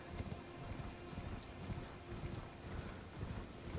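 Horse hooves clip-clop in a steady, fairly quiet rhythm as a rider travels on horseback in the video game Elden Ring, with no talk over it.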